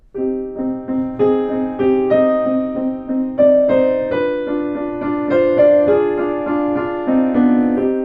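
Solo piano plays a lilting waltz melody over a repeating bass note, notes ringing clearly and evenly for several bars.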